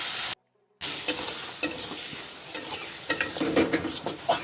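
Chickpeas are sautéed in spices in a pan. A spoon stirs and scrapes in repeated strokes over a low frying sizzle, close by. A brief dropout of silence comes near the start.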